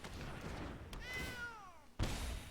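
A single cat meow plays as a game effect in Magic: The Gathering Arena, a clear, falling tone over a soft background hum, followed by a sudden low thump.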